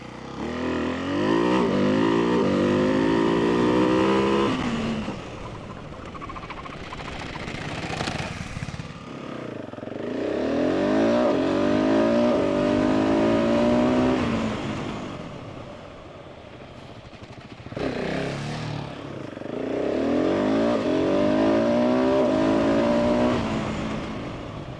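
Supermoto motorcycles, a Ducati 698 Mono and a KTM 690 SMC R, ride past in repeated waves, single-cylinder engines rising and falling in pitch as they rev through corners, loud and near, with no talking.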